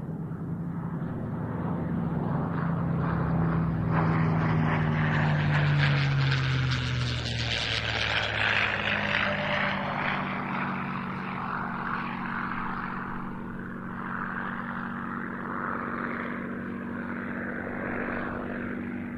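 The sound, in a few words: Vought F4U Corsair propeller aircraft flying, Korean War colours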